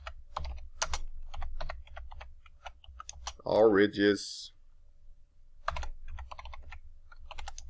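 Light clicking keystrokes patter across the clip as someone types on a computer keyboard, with a brief spoken phrase in the middle.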